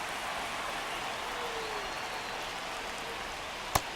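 Steady rain falls on a baseball stadium in MLB The Show 25, a constant, even hiss of moderate loudness that runs unbroken throughout, with one short sharp click near the end.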